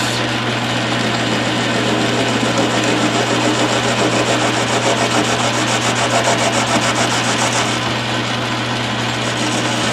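A metal dial spacer of unidentified alloy is turned in a collet chuck on a 9-inch lathe, giving a steady, loud, close machining hum with a constant low drone and continuous scraping cutting noise, and no talking.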